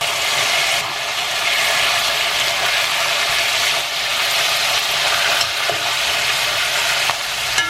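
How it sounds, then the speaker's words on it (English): Meat browns in a frying pan while cooking Afghan food, giving a loud, steady, close sizzle and frying hiss with occasional faint clinks of stirring, no talking. "Now we're going to add the meat. Gonna let that brown up."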